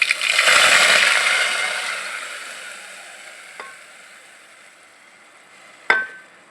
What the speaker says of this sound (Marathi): तो आई आता फोडणीमध्ये वाटप घालून घेते.